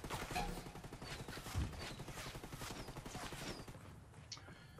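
Gunfire crackles in a Ghost Recon Wildlands 4 vs 4 Ghost War match, a rapid string of faint distant shots popping steadily over several seconds with no voices.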